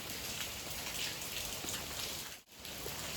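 Light rain falls steadily as a dense, even hiss close by, with a brief drop in the noise near the middle and no talking.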